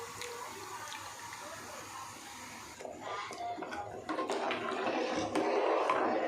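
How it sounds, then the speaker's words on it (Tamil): Pearl millet flour batter is poured into a pot of boiling water and stirred, making close liquid sloshing and pouring sounds that grow louder and busier toward the end. "இனி அந்த மாவு கரைச்சி வச்சுருக்கோம்ல, அதை உள்ளே ஊற்றி கிளறிடலாம்"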